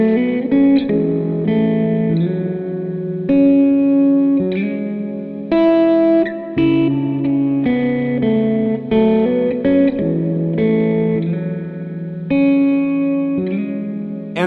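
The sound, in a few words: JET Revelation ambient reverb pedal demo on guitar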